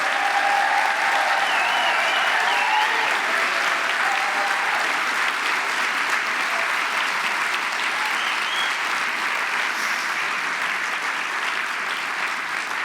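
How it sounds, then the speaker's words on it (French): A theatre audience at a university thesis competition final in Geneva applauds the doctoral candidates, a loud, dense and sustained wash of clapping lasting the whole stretch. "Je vous propose de les applaudir bien fort juste avant de commencer."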